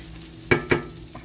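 Rice being stirred in a pan makes two quick, soft scraping strokes close by over a quiet sizzle, followed by a fainter third touch.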